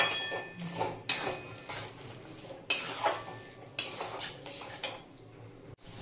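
Boiled, drained peas being stirred and sautéed in a cooking pan: a series of metallic scrapes and clinks of a spoon against the pan with quiet hissing between strokes, close but fairly soft.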